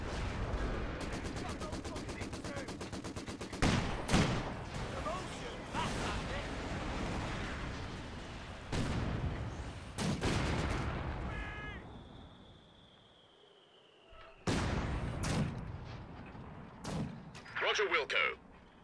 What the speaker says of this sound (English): Rocket artillery unit has been sent to the battle.